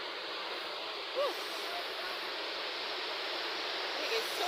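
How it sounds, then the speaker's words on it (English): A waterfall heard up close as a steady broadband rush of falling water, continuous and fairly even throughout with no talk. "this is our waterfall, as you can see"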